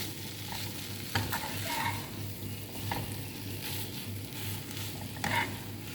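Spiced chicken is stirred in a hot pan, a continuous close sizzle broken by soft scraping and stirring knocks at irregular intervals, with no voices.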